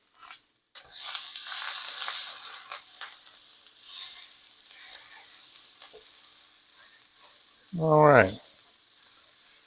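Garlic frying in a pan, a steady soft sizzle that runs throughout, with a brief louder clatter near the end and a few words spoken over it.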